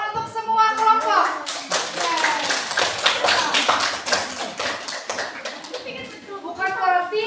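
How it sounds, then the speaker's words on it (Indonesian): A classroom of students claps for all the groups, with fast, uneven, close hand clapping lasting several seconds. Children's voices chatter over and between the claps. "beri tepuk tangan untuk semua kelompok."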